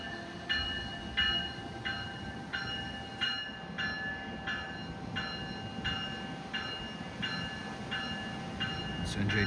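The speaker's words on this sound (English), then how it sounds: "NJ Transit pulling in on the far track" An NJ Transit train pulls in on a far station track, its low rumble faint and distant beneath a regular series of ringing tonal pulses repeating about every second.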